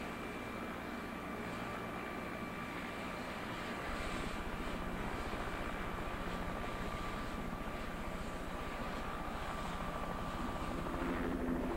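Steady, continuous aircraft engine drone with a whirring rotor-like roar, constant and moderately loud throughout, no voices.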